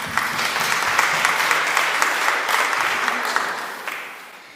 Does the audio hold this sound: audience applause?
yes